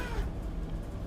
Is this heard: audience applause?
no